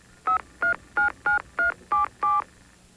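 Seven short telephone keypad dialing tones in an even sequence, clear and close, with brief gaps between each beep.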